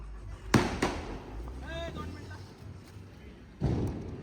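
Diwali firecrackers going off outdoors, a sharp bang followed quickly by a second, then another burst a few seconds later, with a voice heard briefly in between.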